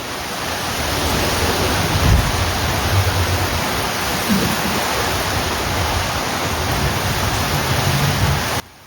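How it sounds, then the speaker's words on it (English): Heavy rain from an ex-tropical cyclone pounding north and central Queensland, a dense, steady hiss of downpour that holds at an even, loud level throughout, with no voices. "Heavy rain is continuing to pummel north and central Queensland after ex-tropical cyclone Koji made landfall."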